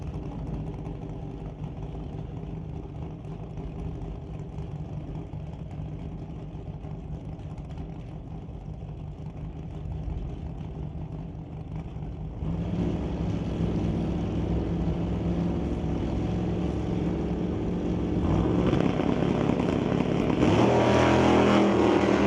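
A Chevrolet Bel Air and a 1969 Dodge Dart hot rod race down a drag strip, their engines a steady roar from a distance that grows louder and rougher as they run, with no talk.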